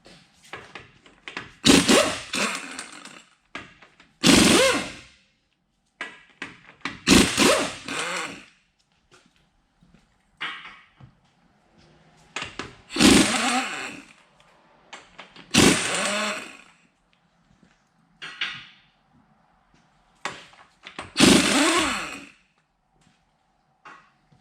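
Lug nuts come off the front wheel of a 2013 Ford F-150 pickup with a 21mm socket. Repeated loud, close bursts of a powered tool are separated by short quiet pauses.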